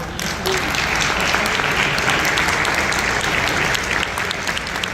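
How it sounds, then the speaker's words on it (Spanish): Loud, sustained applause erupts from an audience after a talk on programming in the age of AI, a thick wash of many clapping hands that starts abruptly and holds steady. "un fuerte aplauso"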